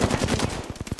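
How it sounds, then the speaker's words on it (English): Rapid automatic gunfire from a weapon in the video game Apex Legends, several quick bursts of shots firing loud and close, with no talk over them. "Opening fire."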